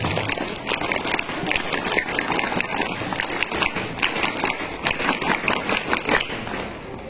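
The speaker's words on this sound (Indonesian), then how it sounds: "tepuk pramuka" Scout group at a school performing tepuk pramuka, a dense steady rhythmic clapping by many people that continues for several seconds in a reverberant room.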